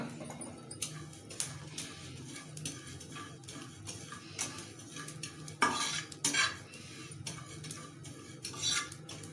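Ajwain (carom seeds) dry-roasting in a pan for a crispy fish fry, with a utensil stirring and scraping in repeated clinks and rattles over a faint sizzle, sharper clatters near the middle and end.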